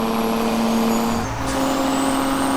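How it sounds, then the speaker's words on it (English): A truck engine in the video game American Truck Simulator drones steadily with a high turbo whine throughout, loud and close, dipping briefly as the pitch shifts. "I love hearing that sound of this turbo noise."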